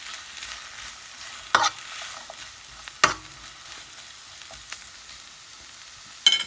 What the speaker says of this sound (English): go ahead and add in the grated carrot. Give it a mix around.